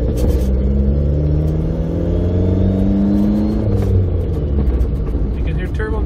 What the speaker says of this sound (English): You can hear turbo noises.